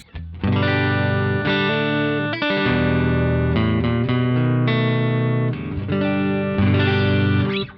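Clean electric guitar played through a Joyo American Sound amp-simulator pedal with a Mooer DI box cab sim, ringing chords and notes sustaining steadily and close, alone with no talking.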